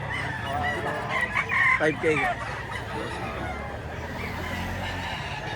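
A rooster at a market crows nearby, one strained call with a few clucks, over background chatter and a short spoken remark.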